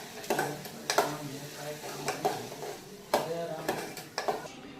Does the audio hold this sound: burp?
no